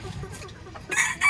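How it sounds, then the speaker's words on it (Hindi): An Aseel hen clucking in short soft bursts, followed by louder, brighter squawking calls near the end, with faint background noise throughout. "एक और असील हीरा मुर्गी"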